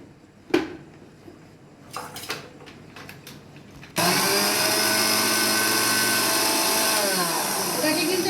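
Electric mixer grinder blending watermelon pieces for juice starts abruptly after a few clinks of the jar and lid, then whirs loud and steady to the end; a voice speaks briefly early on.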